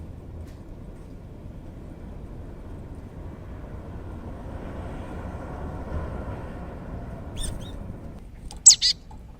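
Small birds at a window bird feeder give a few short, high chirps near the end, over a steady low background rumble.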